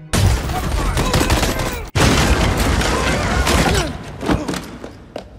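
Loud, chaotic bursts of gunfire and booming impacts pile up in a dense battle din from a film battle scene, with a brief break partway through before the barrage resumes.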